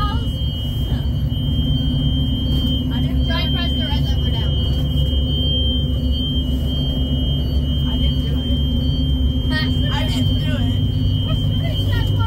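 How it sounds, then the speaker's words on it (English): A school bus alarm sounds continuously as a steady high-pitched tone over the loud rumble of the moving bus, with passengers talking throughout. "I guess we're gonna be with this alarm for the rest of the ride"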